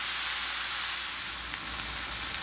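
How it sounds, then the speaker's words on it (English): Ground meat browning for chili in a pan, a loud, steady, close sizzle with a constant hissing crackle throughout. "I'm going to brown the meat up"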